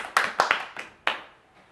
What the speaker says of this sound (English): Everybody please clap your hands.